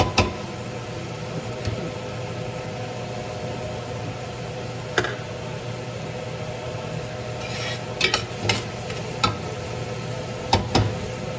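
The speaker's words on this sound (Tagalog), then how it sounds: "Muna hong maluto ng konti ang bawang ng sibuyas bago ko ilagay ang kamatis" Garlic and onion sauté in a pan for chicken sinigang, a soft, constant sizzle under a low hum, broken by occasional sharp scrapes and clanks of a utensil against the pan.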